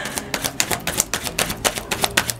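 A varnished deck of gypsy tarot cards being shuffled by hand at close range, with a steady run of crisp, rapid card riffles and snaps repeating evenly throughout, with no talking over it.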